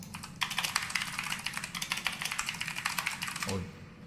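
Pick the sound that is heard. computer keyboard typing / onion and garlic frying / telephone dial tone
computer keyboard typing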